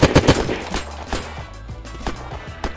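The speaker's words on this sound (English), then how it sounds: "he's shooting at me now" Gunfire in the survival video game Unturned: several sharp shots crack out, clustered at first and then spaced irregularly, fairly close and loud over a low background rumble.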